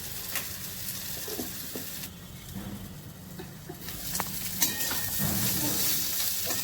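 Kakrol (spiny gourd) with black cumin frying in a pan, a steady close sizzle with scattered pops and a few light stirring knocks.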